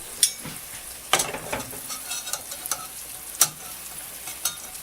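Pan pizza frying in a hot pan after being flipped, a steady close sizzle broken by a few sharp crackles and spatter pops, with no talking.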